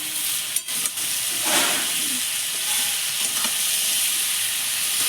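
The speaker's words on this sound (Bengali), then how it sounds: "সবজিগুলো খানিকক্ষণ ভাজা ভাজা ভাজা হয়ে এসছে।" Chopped vegetables frying in an oil-filled pan for a village-style labra curry, a loud continuous sizzle and hiss with a brief stir near the start, no talk.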